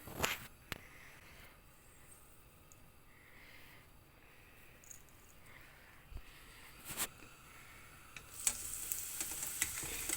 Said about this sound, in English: we will drop it in the oil, or you can do it one by one